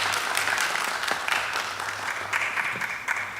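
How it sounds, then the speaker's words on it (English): A college film festival audience applauds steadily for a few seconds, a dense wash of clapping with no voices standing out. "Give her a round of applause."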